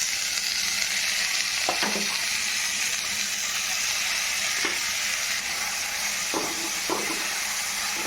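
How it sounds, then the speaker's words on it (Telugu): Chopped gongura leaves frying in a hot tempering for gongura pulihora fried rice give a loud, continuous sizzle and hiss, with a few soft stirring scrapes and clinks of the spoon in the pan. "మంచిగా ఇలా ఫ్రై చేసుకోవాలి"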